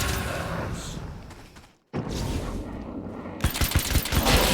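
Rapid bursts of gunfire and sharp blasts from the video game Alan Wake's American Nightmare crackle in dense volleys, broken by a brief silent gap before the shooting resumes louder.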